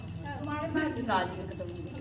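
A small brass puja hand bell rings with a steady, sustained high chime while a person talks over it.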